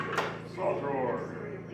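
A saw drawer on a tool box slides open with a short scrape and rattle, heard close by.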